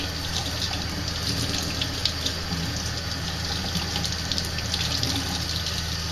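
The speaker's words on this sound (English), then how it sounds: "rinse this one off." A 78rpm record is rinsed under a running kitchen tap, giving a steady, close gush of water that stays constant throughout, with no voices.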